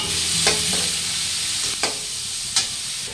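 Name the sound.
chicken frying in a pan for chicken chow mein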